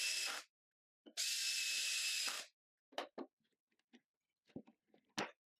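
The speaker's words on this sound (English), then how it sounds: "and drive the screws" A power drill driving screws into wood for a DIY corner clamp whirs in two bursts, the second longer, followed by scattered clicks and knocks of wood and tools, close and fairly quiet.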